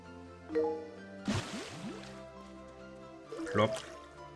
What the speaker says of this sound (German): jetzt müssen wir noch gießen